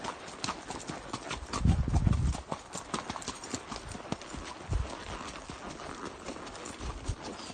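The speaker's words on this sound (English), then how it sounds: "This is Sweet Pea right from the saddle on trails" A horse's hooves on a trail ride along a road by creeks, heard from the saddle: steady close clip-clop, a regular walking rhythm of sharp knocks running throughout, with a brief low rumble near the start.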